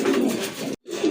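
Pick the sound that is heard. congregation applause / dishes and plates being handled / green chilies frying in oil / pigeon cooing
pigeon cooing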